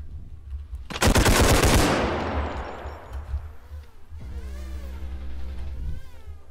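A single loud, close gunshot in the video game Bodycam, its blast decaying through a long echoing tail, followed by quieter game ambience with faint tonal whines and sweeps.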